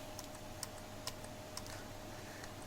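Keys are tapped on a Logitech PS2 computer keyboard, a few sparse, faint clicks spaced irregularly over a low steady hum.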